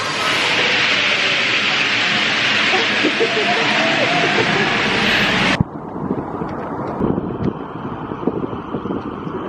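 A loud, steady rush of a metro train fills the first five seconds, then cuts off abruptly to quieter station ambience with faint murmurs.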